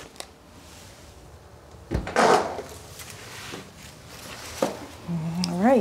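A front entrance door with leaded glass opens with a wooden thump and a rattling scrape, followed by quieter handling sounds and a later knock, in a quiet house with no talking.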